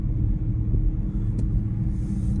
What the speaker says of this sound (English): The buzzing is still there.